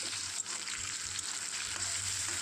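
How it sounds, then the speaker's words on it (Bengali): Jackfruit seeds fry in a pan with reddened chilli and onion, producing a soft, constant sizzle at a moderate distance with faint stirring and no voices. "আমি কাঁঠালের যে বিচিগুলো সেগুলো ঢেলে দিলাম"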